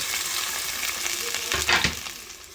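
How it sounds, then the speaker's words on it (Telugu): Chopped green chillies and onions sizzling in hot oil for a mushroom biryani, a close steady hiss with a louder burst of crackling and stirring midway, no voices. "ఆయిల్ వేసేసుకొని పచ్చిమిర్చి, ఆనియన్ తరుక్కున్నాం కదా, అది వేసేసుకోవాలి"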